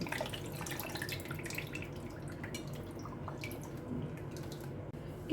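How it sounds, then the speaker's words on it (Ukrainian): Tomato juice poured over stuffed peppers in a pot gives a steady, soft liquid trickle and splashing that runs evenly through the whole stretch at moderate loudness, with no talking. "Заливаю томатним соком."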